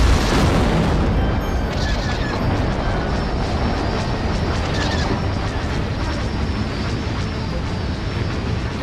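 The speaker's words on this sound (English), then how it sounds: "We're under concentrated fire, but shields are holding." Space battle in Disney Infinity 3.0 with blaster fire and explosions, a dense roaring barrage of booms and rumbling engine noise that stays loud and steady throughout.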